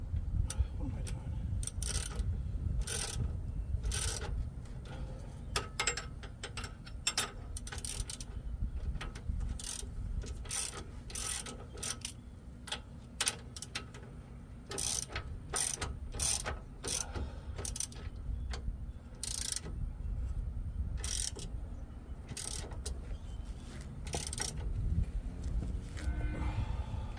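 A ratchet clicks in quick irregular bursts while tightening hardware during a coil spring conversion on a SAAB 9-7X, the sharp pawl ticks repeating close by over low rumbling workshop background.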